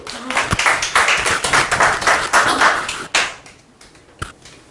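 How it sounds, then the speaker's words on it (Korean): Audience clapping at a high school admissions information session, a burst of claps that thins out into a few scattered final claps. "자, 박수!"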